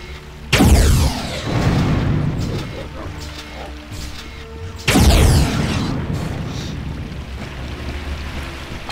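Missile weapon explosions in Unreal Gold: two loud, booming blasts a few seconds apart, each hitting hard and then trailing off in a long rumbling decay.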